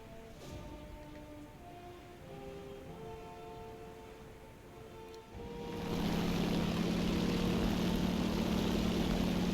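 A propeller warplane engine in War Thunder drones steadily, then surges louder and rougher about halfway through as the throttle comes up, holding a strong continuous roar to the end.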